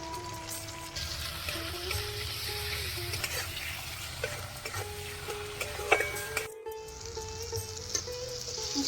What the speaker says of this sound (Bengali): সব হালকা করে ভেজে নিয়েছি